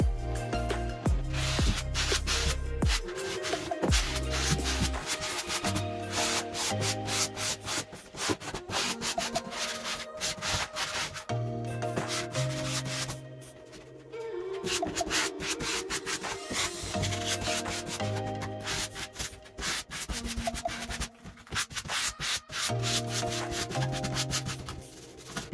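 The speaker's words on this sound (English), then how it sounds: "Now let's squeegee it all." A squeegee pressed over a wet vinyl star decal on a 2017 Jeep Wrangler JK Rubicon, giving close rubbing and squeaking strokes in long repeated passes, with a short pause midway.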